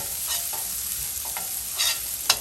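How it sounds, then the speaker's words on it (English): Chopped garlic sizzles steadily in a pan for chicken marsala, a constant soft frying hiss broken by a few brief scraping stirs, heard up close with no voices. "I put a little more chopped garlic. And let that cook in there nice."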